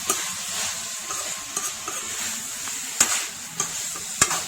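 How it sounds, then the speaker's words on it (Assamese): Boiled chicken meat fries in a pan with a soft continuous sizzle, while a utensil stirs and scrapes it, producing occasional sharp clicks against the pan. "এতিয়া তাত বইল কৰা মাংসখিনি দি সেইখিনি অলপ ভাজি ল'ম।"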